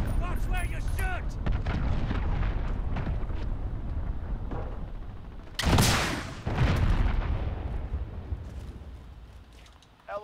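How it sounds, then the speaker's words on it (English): Heavy, rumbling cruise missile explosion in the Call of Duty Modern Warfare 2 video game, a loud close boom followed by a rolling roar that fades, amid dense game combat noise and spoken announcements. "Allied cruise missile launched."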